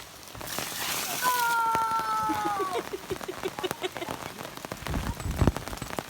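Heavy rain patters and spatters on a nearby surface at a campsite in Blacksmith Fork Canyon, Utah, with a brief high whining cry rising over it early on, then irregular droplet taps.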